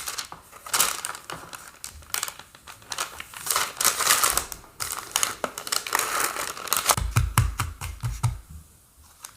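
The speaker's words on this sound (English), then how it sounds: "you're going to put some baking paper on top and spread it to the corners" Baking paper crinkles and rustles as hands spread it over shortbread in a tray, a busy run of close crackling and scraping that thumps and fades near the end.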